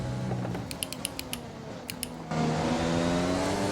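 Race car engine in the F1 2020 video game, a steady droning whine with a burst of rapid clicking gear-shift ticks as the car brakes late, then the engine note rising louder again.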